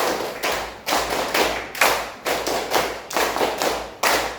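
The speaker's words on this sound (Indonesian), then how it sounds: "Ice breaking kita hari ini yaitu tepuk 3 2 kali." Students in a classroom perform a rhythmic clapping game, patterned in groups of three then two; loud, crisp group claps land in steady bursts close by, with no talking.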